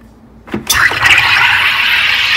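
A soda maker carbonates water in a bottle with a short hiss, followed by a loud, sustained rushing fizz of gas, close up and with no one speaking.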